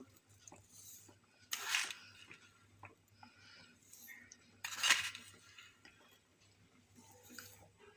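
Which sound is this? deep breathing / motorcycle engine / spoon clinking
spoon clinking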